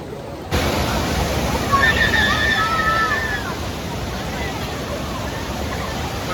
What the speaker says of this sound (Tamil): ஊத்துறது வந்து அப்படியே 2 அடுக்கா ஊத்துதுங்க.